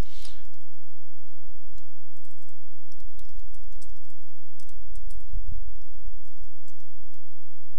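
Keys clatter on a computer keyboard as terminal commands are typed, a run of soft, fairly close clicks in irregular bursts over quiet room hiss.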